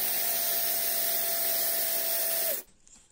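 A cordless drill spins a size-8 drill bit inside a sharpening attachment. A steady, loud, high whine holds for about two and a half seconds, then cuts off abruptly into near silence.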